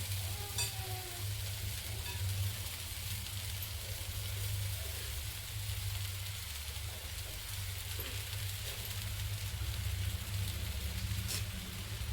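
Poha being tipped into a hot pan and stirred, a low continuous sizzle with faint scraping and a steady background hum, fairly quiet and close, with no voices.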